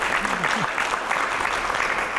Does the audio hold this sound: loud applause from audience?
yes